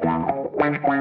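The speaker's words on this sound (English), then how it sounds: "This is what it sounds like running that into the Accountant compressor." An electric guitar played through a wah pedal into an Accountant compressor with distortion, three quick sweeping chords in rapid succession, loud and close.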